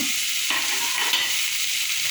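Tomato goes into softened onions frying in a pan for a crab roast. A close, steady sizzle carries throughout, broken by a few soft stirring scrapes, with no talking.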